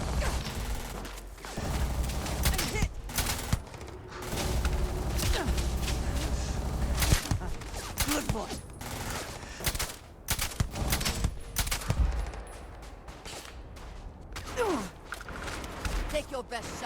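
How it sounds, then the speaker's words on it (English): Heavy gunfire from a gun in the space game Starfield, with repeated mechanical bursts and clattering shots spread across a long stretch of combat noise and occasional voices mixed in. "It's a pretty intense sounding gun."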